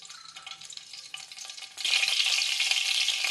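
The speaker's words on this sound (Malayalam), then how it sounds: "കടുക് പൊട്ടിക്കണം." Crackling and popping of mustard seeds spluttering in hot oil in a pan, quiet at first then suddenly bursting into a dense, loud sizzle.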